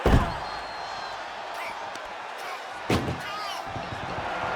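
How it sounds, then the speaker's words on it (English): Ambulance doors slam shut in the WWE 2K24 video game, one heavy bang at the start and another a few seconds later, over a roaring arena crowd, with no one speaking. "Shut the door, seal their fate."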